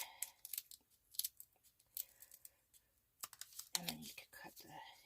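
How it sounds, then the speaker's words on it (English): An old pair of scissors snips the edges off material for a rustic farmhouse window wall hanger, giving close, crisp bursts of cutting and rustling in uneven clusters. "And then you can cut the edges off and just, it's really easy, see?"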